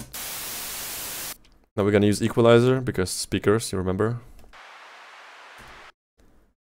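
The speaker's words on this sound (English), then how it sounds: "This is basic white noise. There's white noise generator in Reaper." White noise from a REAPER white noise generator, plain and unprocessed, plays loud and steady for over a second, then someone talks, and a quieter equalized band of the same hiss follows and holds steady for about two seconds.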